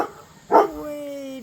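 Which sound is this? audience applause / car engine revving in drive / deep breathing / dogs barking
dogs barking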